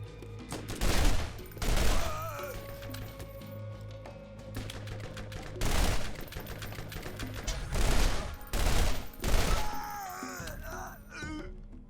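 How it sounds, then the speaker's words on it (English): Rapid bursts of gunfire from a wind-element burst-fire pistol in the Borderlands video game, several loud clustered volleys separated by short pauses, with game effects ringing between them. "That's a lot more than I thought when it said burst fire"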